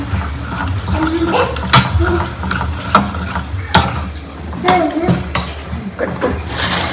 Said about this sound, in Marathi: बघू शकता इथे कसं फ्राय होत आहे मस्त चांगलं मस्त फ्राय करून छान छानपैकी